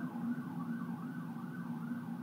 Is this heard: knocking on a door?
no